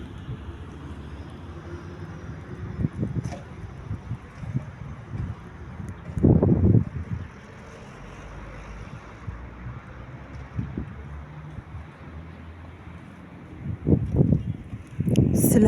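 Strong, cold winter wind on a dark morning buffets the microphone as a steady low rumble, with louder close gusts swelling around the middle and again near the end.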